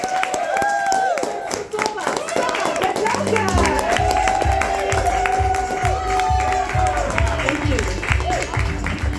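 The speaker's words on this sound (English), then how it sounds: "Please start your clapping. Please start your cheering." Live comedy audience clapping and cheering on cue, a dense wash of applause with whoops, shouts and rhythmic clapping building across the stretch, with a voice speaking briefly near the start.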